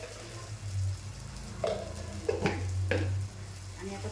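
Chili powder and salt masala frying and sizzling in hot oil in a pan as it is stirred for a fish curry, with a steady close sizzle and a few brief scraping stir strokes.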